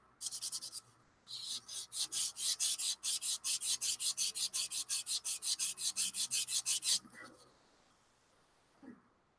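Close, rhythmic rasping of a sanding stick worked back and forth over filler-coated plastic on a scale model, about thirty steady even strokes, then a pause and a faint tap.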